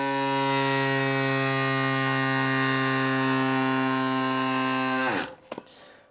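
Fumpa electric bike pump inflating a tyre to about 53 PSI, a loud steady mechanical whine with a strong buzzing hum that cuts off after about five seconds, followed by a couple of small clicks.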